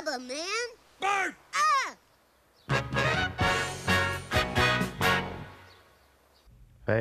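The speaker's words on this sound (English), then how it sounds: "Bird!" A bird caws several times in a children's television show setting, the harsh calls coming in three loud bursts, followed by a louder, denser stretch of squawking and cawing from what sounds like several birds close by.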